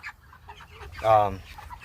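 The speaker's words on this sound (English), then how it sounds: "Our other chickens, you can probably see them a little bit." A single hen clucks nearby for a moment, a short harmonic burst over low background rumble and faint farmyard noise.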